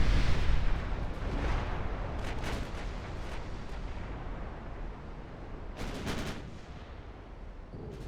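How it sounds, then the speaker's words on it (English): Heavy 11-inch naval guns firing in Ultimate Admiral Dreadnoughts, a deep booming blast at the start followed by several sharp distant reports amid a rumbling battle background. "Those 11-inch guns."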